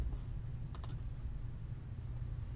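A computer mouse selects OK in accounting software with a quick cluster of two or three faint, close clicks against a quiet background hum.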